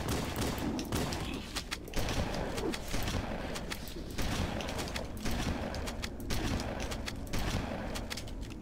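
Gunfire in the video game Halo: Combat Evolved comes as repeated rapid bursts of sharp shots, steady and fairly loud, with brief gaps between volleys.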